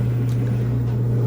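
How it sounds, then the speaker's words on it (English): A clothes dryer runs nearby with a steady low mechanical hum that drones on unchanged, with no talking. "what you are hearing is the dryer running right now"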